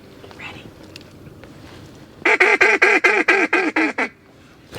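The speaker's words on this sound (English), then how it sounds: "That was a pair of mallards" A pair of mallard ducks quacks in a fast run of about eight loud, close, evenly spaced calls, following a quieter stretch of soft background murmur in a late-season swamp.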